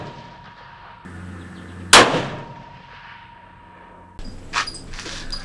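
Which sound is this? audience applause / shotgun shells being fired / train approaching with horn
shotgun shells being fired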